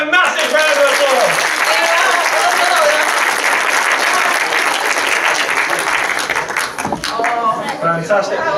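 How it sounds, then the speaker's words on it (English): Loud, full applause from a studio audience at a live retro-themed gaming show, honouring a contestant who won a silver joystick; dense clapping with some cheering runs continuously, fading slightly near the end as a voice comes in. "Give him a massive round of applause."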